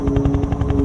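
Black Hawk helicopter in the F.E.A.R. video game, a steady rotor drone with rhythmic blade chop pulsing about ten times a second, loud and continuous throughout.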